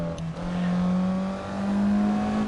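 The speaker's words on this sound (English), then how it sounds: "Max out the revs." A drift car in the Assetto Corsa racing game holds its engine near the rev limiter, a steady loud droning whine that dips slightly then climbs again, with no talking.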